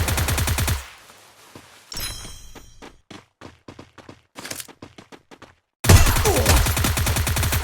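Gunfire from the Free Fire video game: a loud burst of rapid shots at the start, then a sparse run of sharp, separate single shots, and a second dense loud burst near the end.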